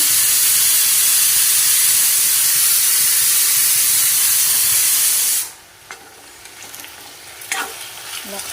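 Potatoes fry loudly in plenty of hot oil with cumin and turmeric, a dense steady sizzle that cuts off abruptly partway through, leaving quieter crackles and faint scraping.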